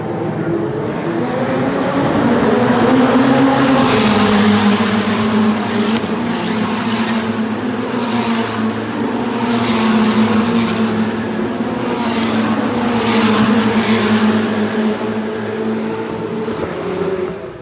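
A pack of Ferrari race cars, including FXXK Evo, FXX, 599XX and F1 machines, starting at Spa during Ferrari Racing Days, engines screaming and layering into a loud sustained roar that rises and falls as the cars pull away.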